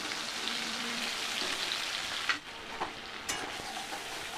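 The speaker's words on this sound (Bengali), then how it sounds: "ভালো করে মশলার পেস্টটাকে এবার আমি একটু কষিয়ে নেব" Spice paste sizzles in a pan with chopped tomatoes for a vegetarian jackfruit curry, a steady close hiss with a few sharper stirring scrapes near the end, no talking.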